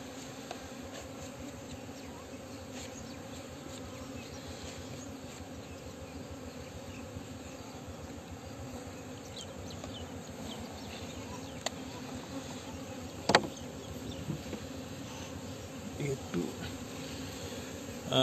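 Honeybees buzz steadily around fresh new combs in hives on a bee farm, a dense continuous drone filling the air with a few louder passes near the end.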